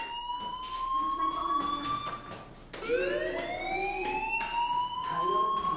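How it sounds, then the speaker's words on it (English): A wailing fire alarm siren in the video game Life Is Strange rises and falls continuously, fairly loud and resetting once midway, with faint background noise beneath. "do you hear that fire alarm? That means you should be outside."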